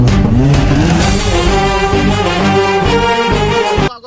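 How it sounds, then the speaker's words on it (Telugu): A black auto-rickshaw drives off with a loud, close, buzzing engine whine that holds steady and then cuts off abruptly near the end. "బ్లాక్ ఆటో పోతుంది చూడు ఆగో"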